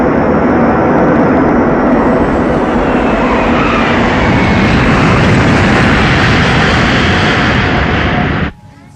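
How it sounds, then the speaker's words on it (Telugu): A passenger airplane bound for Goa flies in for an emergency landing, a loud, close, unbroken engine roar that fills nearly the whole stretch before cutting off abruptly at the end. "మన ఫ్లైట్ ని గోవాలో ఎమర్జెన్సీ ల్యాండింగ్ చేస్తున్నాం"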